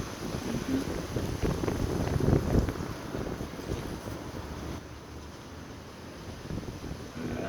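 Steady wind buffets the microphone with a low rumbling roar at a boatyard hardstand, gusting slightly stronger early on and then easing, with no voices.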